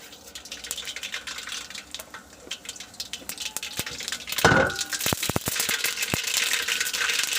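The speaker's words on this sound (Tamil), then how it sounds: "கடுகு அருமையாக பொட்டிடிச்சு" Mustard seeds splutter and pop in hot oil in a cooking pan, a steady close sizzle with a flurry of sharp crackling pops growing denser partway through.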